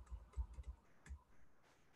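Quiet computer keyboard typing: a short burst of several soft, irregular key clicks, then a pause and a couple more taps, alone without talk.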